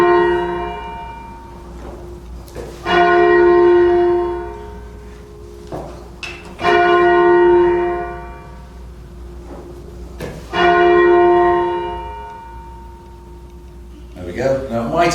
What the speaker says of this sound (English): This bell will make a noise, obviously.